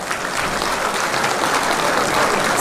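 A hall full of people gives warm, sustained applause for guests at an opening ceremony, dense even clapping that holds steady and loud throughout.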